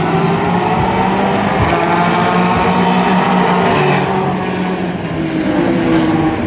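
Race cars roar around a track in a steady blended drone of engines, with occasional cars swelling louder as they pass.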